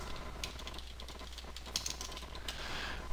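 Computer keyboard being typed on while writing an email link, a quick irregular patter of soft key clicks over a steady background hum.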